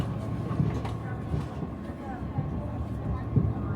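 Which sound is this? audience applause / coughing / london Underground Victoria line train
london Underground Victoria line train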